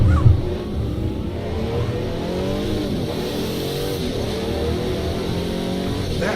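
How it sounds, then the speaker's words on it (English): A turbocharged car pulls away from a standing start, its engine droning loud and steady as the turbos spool up, with rising whine layered over the continuous rumble throughout. "Once the turbos are building up, you can hear how the turbos spin."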